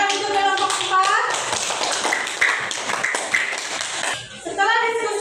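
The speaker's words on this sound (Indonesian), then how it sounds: "Oke, tepuk tangan untuk kelompok 4." Classroom applause for a student presentation group: a burst of many hands clapping in a school room, steady and fairly loud for several seconds, with children's voices mixed in and talk resuming near the end.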